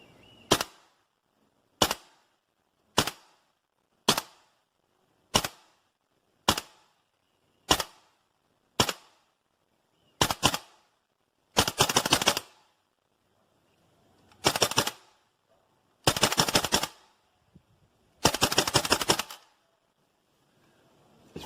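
A Tokyo Marui AKM gas blowback airsoft rifle fires 0.28 gram BBs, first as a long series of sharp single shots spaced about a second apart, then as several short full-auto bursts, loud and close, with no talk.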